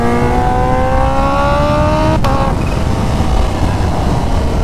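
A Kawasaki Ninja H2 motorcycle rated at 250 horsepower, ridden on a back road, revs hard with a steadily climbing engine whine, then shifts abruptly midway and keeps pulling under constant wind roar. It is loud and close, with no talking.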